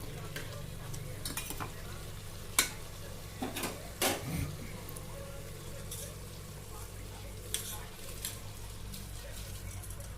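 Soft scraping and a few light clinks of soaked rice and lentils being tipped into a pan, over a steady low hiss and hum.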